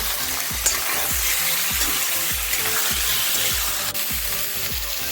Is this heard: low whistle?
no